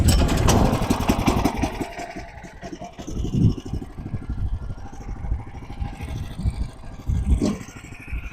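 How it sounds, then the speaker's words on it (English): A portable sawmill's small engine idles while warming up in the cold, a steady close-up rumble with uneven sputters and occasional scraping clatter, no voices. "purr of the engine, the purr of the sawmill"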